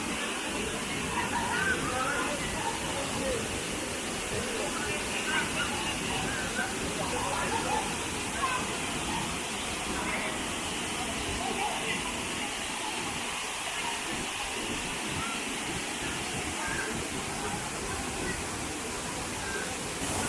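Savdav waterfall in the Konkan countryside, a continuous broadband roar of rushing water holding steady and loud throughout without any break.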